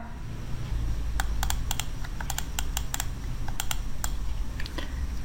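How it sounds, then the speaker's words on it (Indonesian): Keys clatter on a computer keyboard as a search keyword is typed, a run of quick, sharp clicks in short bursts over a steady low background hum. "Lalu dia akan ketik keywordnya kan, atau kata kuncinya yang dia cari ya."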